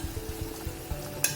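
Chopped onion stirred in hot oil in a pan, giving a steady low sizzle with soft, regular stirring scrapes about five times a second, ending on a sharper clink.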